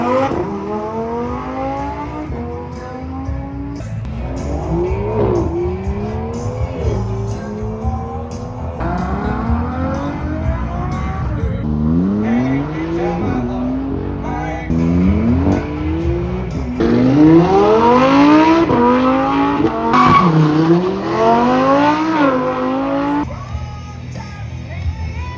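A Lamborghini Huracán Performante at a Grobnik track event revs hard through repeated upshifts, its engine note climbing and dropping over about 25 seconds. Other cars pass by loudly, with tyre noise in the mix.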